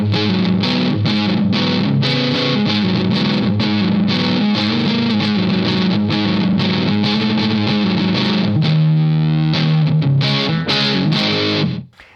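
Electric guitar played through an ART SGX 2000 Express preamp's fuzzy distortion, loud strummed chords and riffs continuing steadily, a sustained chord near the end before it cuts off.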